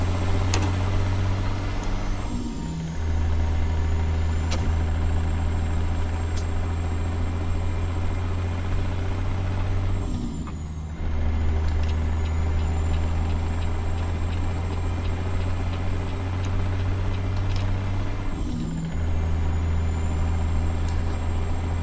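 Heavy truck in American Truck Simulator rumbling steadily at close range, its low engine drone broken by a couple of brief shifts or brake moments, with constant road noise underneath.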